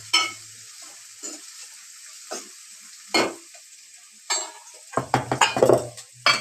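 Bottle gourd pieces frying with onions in a pan, heard as intermittent stirring scrapes and sizzling bursts, sparse at first and then clustering into a quick, louder series of clinks and spatters near the end.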